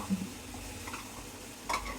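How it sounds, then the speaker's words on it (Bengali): Garlic paste stirred into a spiced garlic pickle in a pan makes a soft, faint scraping and low sizzle, with a brief utensil tap near the end and no voices. "বাটা রসুনটা দিয়ে ভালো করে নাড়িয়ে নিব।"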